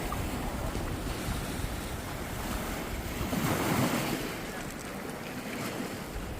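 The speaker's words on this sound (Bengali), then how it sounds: "এখন সাগরে মূলত আসলে জোয়ার চলছে" Sea waves wash in at high tide below limestone cliffs on the English coast, a continuous surf roar with one swell peaking midway, mixed with gusts of wind buffeting the microphone.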